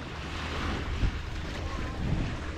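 Rough sea waves break and wash at a beach on Bantayan Island, Cebu, a steady roaring surf with wind buffeting the microphone and a couple of heavier swells, fairly loud and close.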